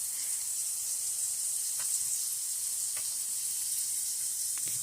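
Seasoned burrito filling sizzles steadily in a hot pan, a constant bright hiss with a few faint clicks, moderately close and alone.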